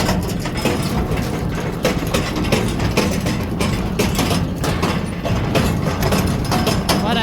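A John Deere 6430 tractor pulling a seed drill across rough field ground, with a continuous loud engine drone mixed with rattling and clanking of the implement throughout.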